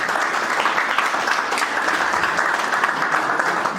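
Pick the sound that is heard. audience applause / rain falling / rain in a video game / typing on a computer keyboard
audience applause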